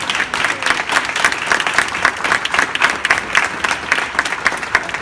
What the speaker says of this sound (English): And receive the applause that you should have gotten last year.